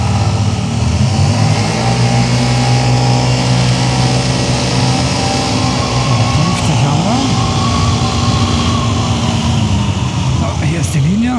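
Two scooters, a Vespa GTS 125 and a Lambretta X125, pull away together toward 50 km/h for a braking test, their engines droning loudly and rising in pitch through the whole run.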